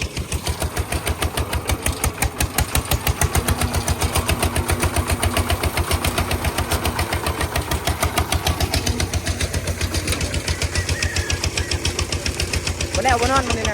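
A tractor engine runs close by while driving through water, a loud, steady rapid chugging pulse throughout, with someone talking over it.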